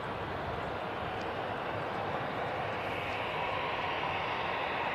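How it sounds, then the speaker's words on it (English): A Qatar Airways Boeing 787 Dreamliner takes off, its engines a loud, continuous broadband roar that holds steady and swells slightly toward the end. "And we got the Qatar Dreamliner lined up next to go."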